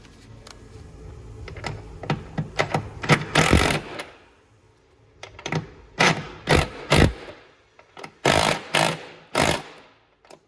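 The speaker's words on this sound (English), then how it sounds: "Set our wrench to 13 foot-pounds." A torque wrench is set to 13 foot-pounds during a Lexus LX570 rear hatch strut replacement. Close, crisp mechanical clicks and short ratcheting bursts come in irregular clusters separated by quiet gaps.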